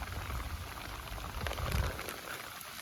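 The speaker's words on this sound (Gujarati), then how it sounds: "થોડો ઘટી ગયો વરસાદ થોડો ધીરો પડ્યો" Steady rain, easing off slightly, falling and pattering on surfaces nearby in a village, a continuous soft wash of drops without speech.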